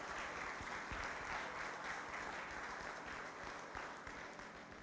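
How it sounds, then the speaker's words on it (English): Steady applause from a crowd at a 4-H county fair swine show, sustained clapping filling the space for several seconds before gradually thinning. "Let's give these three a nice round of applause as we start out the morning."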